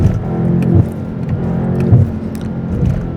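A BMW M8 Competition coupe slowing on engine braking after the throttle is lifted in Sport mode, a steady close-up drone with low rumbling pulses, heard from inside the car.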